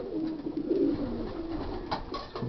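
Yearling pigeons, a mix of small and big cocks in varied colours, coo steadily inside a loft with a grilled aviary, a close continuous murmur of soft overlapping calls.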